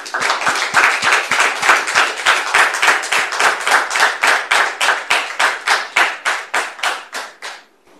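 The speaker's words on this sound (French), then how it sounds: "Public, merci de recevoir son père en question sous vos applaudissements" A studio audience claps in steady, evenly spaced rhythmic beats, loud and close, keeping time for several seconds before slowing and fading out, with no talking over it.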